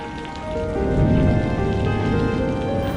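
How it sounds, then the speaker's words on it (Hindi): Heavy rain pours down in a dense, loud hiss of drops drumming on surfaces, swelling slightly and then holding steady. "लेकिन बारिश इतनी तेज होने लगी कि क्या करूं"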